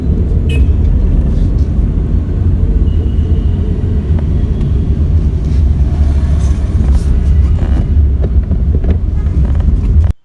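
A Tata Nano car climbing a slight uphill road in second gear, its engine droning steadily and loudly throughout, with heavy low rumble and road and wind noise close to the microphone, no voices.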